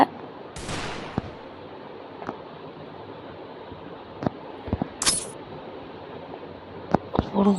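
Gunshots from the mobile battle game Free Fire: a string of sharp, separate cracks scattered over a steady game background hum, some single and some in quick pairs, with a louder cluster near the end.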